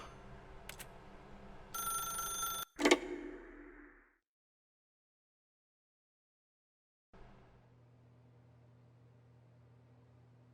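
An old-fashioned telephone rings in The Stanley Parable video game: a short electric bell burst, then a second ring cut off by a clunk as the receiver lifts, followed by silence and faint room hum.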